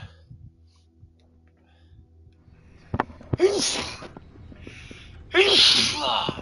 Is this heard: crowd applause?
no